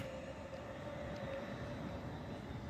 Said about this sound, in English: we have the arrival of a single class 350